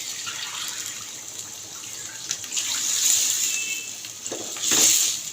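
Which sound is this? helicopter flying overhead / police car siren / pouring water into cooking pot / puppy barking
pouring water into cooking pot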